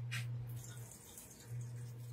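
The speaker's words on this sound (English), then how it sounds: "Oh, it's my dishwasher draining." A home dishwasher drains, giving a faint continuous rush of running water with a low steady hum beneath. The hum dips briefly in the middle and then returns, and no one speaks.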